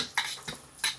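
Garlic clatters in a pan being sautéed for lomi, with a few sharp metallic scrapes and knocks of a utensil against the pan standing out over a faint background, and no sizzle clearly evident.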